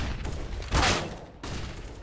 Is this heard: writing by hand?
no